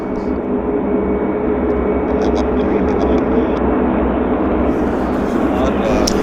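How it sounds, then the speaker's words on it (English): A heavy Air Canada jet airliner on approach to Vancouver airport in January, a steady broad roar of engines close by, with a voice talking over it and faint higher tones drifting in. "We've got another heavy on approach. It's Air Canada Flight 64 inbound from Incheon Airport, Seoul."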